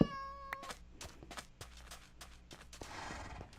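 A cat meows briefly at the start, followed by a run of sharp, rapid clicks and pops and a soft rushing noise toward the end.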